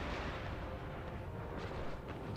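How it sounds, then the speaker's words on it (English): Distant cannon bombardment in a Sweden campaign of Imperial Destroyer, a dense, muffled rolling rumble of artillery fire with faint overlapping thuds, low and continuous throughout. "Right now we're bombarding the enemy cannons"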